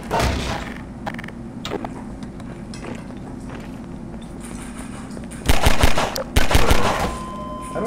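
Gunfire in the Half-Life 2 video game, scattered shots and rattling bursts with clattering effects and a louder volley of shots near the end.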